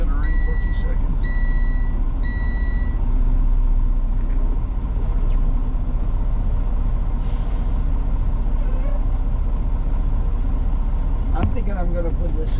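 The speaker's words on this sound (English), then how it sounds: "I took my seatbelt off, so now it's going to ring for a few seconds." Three quick electronic seatbelt warning chimes ring out inside a truck over the steady low rumble of its idling engine, then the engine drones on alone.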